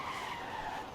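Tires of a Lucid Air Sapphire skid sideways in Forza Horizon 5, a brief, steady squealing scrub over faint engine noise, heard alone.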